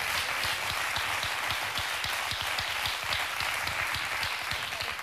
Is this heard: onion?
no